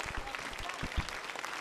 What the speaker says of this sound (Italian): Tutto questo applauso!